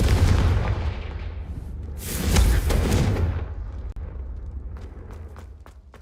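A loud blast from the Confringo explosive spell in Hogwarts Legacy, a booming burst that swells and then decays into a rumbling tail, followed by a few faint sharp pops, with no talk.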